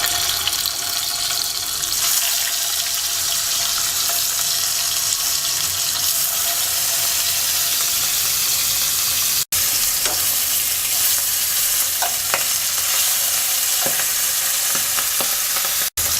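Hilsa fish pieces fry in hot oil in a wok, giving a loud, steady sizzling hiss that runs throughout, with a few sharp clinks and crackles near the end and no talking.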